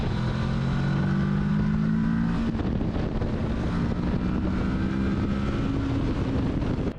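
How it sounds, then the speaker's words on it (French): Steady engine drone from a Kawasaki Versys 650 with a rising pitch as the motorcycle accelerates, heavy wind rush over the microphone throughout. "Le moteur, j'ai l'impression qu'il fait plus de bruit"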